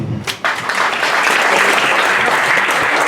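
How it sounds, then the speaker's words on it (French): An audience applauds a male pageant candidate at a Miss and Mister election, loud, dense clapping that swells after a brief quieter start and holds steady throughout. "Et on applaudit Ludovic, candidat numéro 7, mesdames et messieurs"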